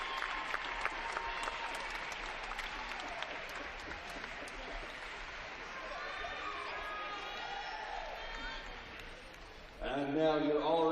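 Applause from a gymnastics championship crowd after floor routines fills a large gym with sustained clapping and cheers, while an announcer speaks over the crowd and the sound grows louder near the end.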